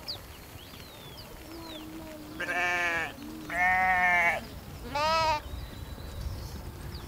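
Sheep bleat three times in a row, clear and fairly close, with a quiet outdoor background and faint bird chirps.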